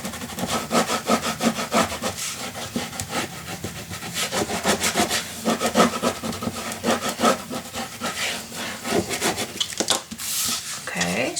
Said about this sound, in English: burnish your glue down